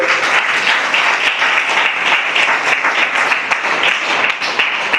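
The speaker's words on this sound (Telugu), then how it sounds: "ఇది నమ్మితే మీరు అందరూ చప్పట్లు కొట్టండి" Loud, steady clapping from a church congregation at a Telugu Sunday service, a dense continuous wash of many hands that fills the full five seconds without letting up.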